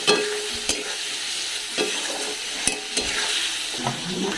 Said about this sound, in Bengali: পনির ভেজে রেখেছি, এই আলু ভাজছি, এই সমস্ত মশলা মিলিয়ে নিলাম